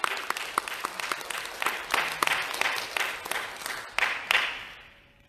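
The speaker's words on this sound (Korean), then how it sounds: "우리 환영의 박수 한번 해주십시다." A church congregation gives a welcoming round of applause during Sunday worship, the separate claps building into a lively patter and then fading away toward the end, heard alone without talk.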